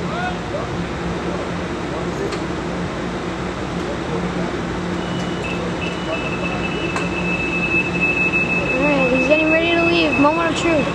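A Metrolink train passes at Fullerton with a steady heavy rumble that swells toward the end, and a long tonal horn-like note sounds midway, with faint voices nearby.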